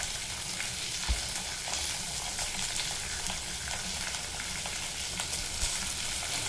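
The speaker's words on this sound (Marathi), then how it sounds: "अगदी स्लो गॅसवर हे असं ह्या भाजीला असं वर खाली चालवत राहायचं" Vegetables frying in a pan over a low gas flame while being stirred up and down, a continuous soft sizzle with occasional scraping clicks of the spoon, close and steady, no voices.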